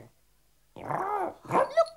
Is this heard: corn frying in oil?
no